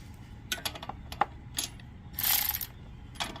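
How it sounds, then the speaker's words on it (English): A socket wrench on a deep-well 13/16 socket works a spark plug loose, giving scattered sharp metallic clicks and ratcheting bursts, with a brief harsher rasp near the middle, close by and alone. "and take the spark plug out"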